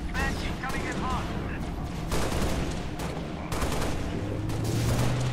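Gunfire in the video game Halo, with dense bursts of shots crackling over continuous battle noise and overlapping voices, while a loud barrage rises about halfway through.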